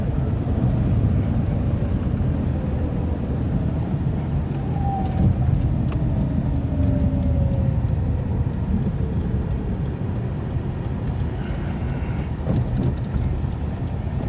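Tata Nano small hatchback driving slowly in the rain, with a steady low engine and road rumble plus hiss of wet tyres and rain throughout, no voices.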